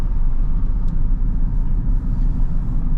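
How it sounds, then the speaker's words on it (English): A Subaru car drives along, heard from inside as a steady, dense low road-and-engine rumble that holds at an even level throughout, with no voices. "I'm driving over now."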